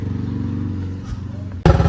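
A motorcycle engine idles with a steady low putter, then a sudden thump as it revs and pulls away loudly at the end.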